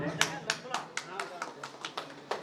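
Hands clap in a steady, evenly spaced rhythm at a madrasa prize distribution in Barari, Katihar, about nine crisp claps over a couple of seconds, moderately close and over a low murmur of background noise.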